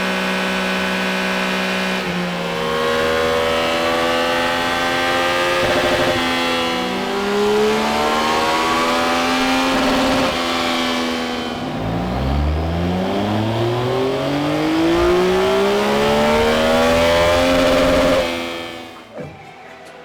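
Stock Yamaha XSR900 Euro 5 motorcycle engine revving on a dyno, loud repeated runs sweeping up through the rev range with gear changes, close and continuous, ending abruptly.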